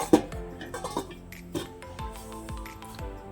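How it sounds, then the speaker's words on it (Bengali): Metal lid set onto a cooking pot in a home kitchen where bottle gourd and small fish curry is being made, giving a few light clinks and clatters close by with no talk. "আমি এবারে এটাকে ঢেকে দেব।"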